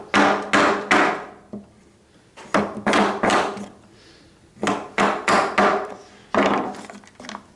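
Hand saw cutting down through wood for a T halving joint, heard as several bursts of quick back-and-forth strokes separated by short pauses, close and fairly loud with no talking.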